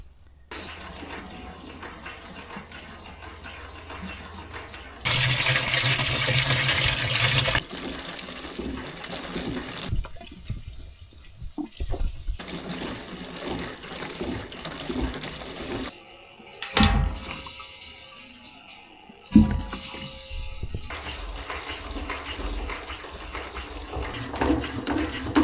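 Diesel fuel gushes and splashes while draining out of an old Mitsubishi machine, a steady liquid pour that swells to a loud rush in bursts, with short pauses between.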